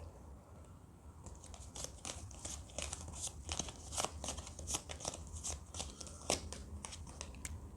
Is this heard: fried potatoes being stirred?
no